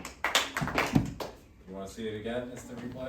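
Sharp hand claps and taps land in a quick, even rhythm during a demonstration of claps placed between the beats. Near and fairly loud, they stop in the second half as a voice speaks.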